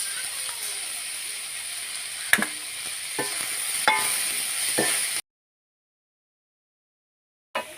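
Green chilies and fenugreek seeds sizzle in hot oil in a pan for an egg curry, a steady close frying hiss with a few sharp crackles and spoon scrapes, cutting off abruptly into silence before a brief return.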